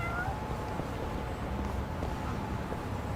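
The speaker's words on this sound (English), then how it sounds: "I hear a cat." A cat meows in the video game Yakuza: Like a Dragon, a drawn-out cry heard faintly over a dense, noisy background ambience, with no talking.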